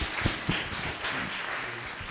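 A brief spell of audience applause at a discussion meeting, a handful of distinct claps standing out at first before merging into a light, fairly quiet patter.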